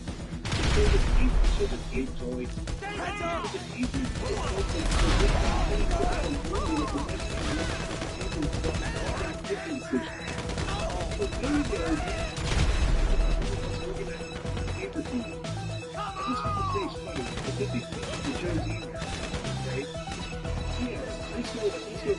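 Chaotic gunfire and crashes in the video game GTA, loud bursts of shots and impacts layered over music and voices, with heavy hits near the start and again around the middle.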